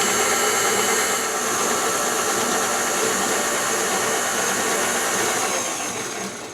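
An electric mixer runs continuously, beating banana bread batter with eggs, producing a steady close whirring drone without pause and tapering slightly toward the end.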